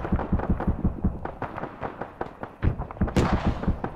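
Rapid, heavy bursts of autocannon fire thump repeatedly in a fast rhythm, mixed with explosive booms in Arma 3's battle soundscape.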